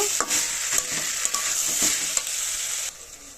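Ginger garlic paste sizzles steadily in a pan, broken by the scrape and clack of a spatula stirring it, close and loud with no voices.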